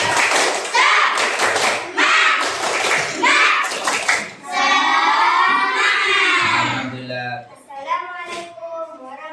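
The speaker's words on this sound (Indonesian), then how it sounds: "Sebelum mengerjakan tugas kalian ayo tepuk semangat." A class of children in an Indonesian classroom does a rhythmic spirit clap routine, hand claps and chanted voices mixed together, loud and close, ending with scattered lighter claps.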